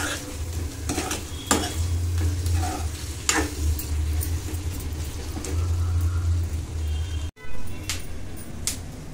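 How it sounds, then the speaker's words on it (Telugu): Chicken fry sizzling steadily in a pan with masala, with repeated scraping and stirring strokes of a utensil over the continuous frying hiss; no talking. "ఇలా ఇంకొక 5 నిమిషాలు బాగా ఫ్రై చేసుకోవాలి"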